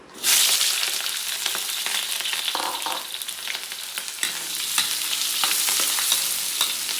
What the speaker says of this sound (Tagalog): Pagsabay-sabayin natin ang paglalagay ng sibuyas, bawang at saka chorizo.